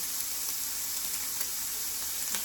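Butter sizzles with a little oil in a hot pan as an omelet is started, a steady, close, bright hiss and crackle with no one talking.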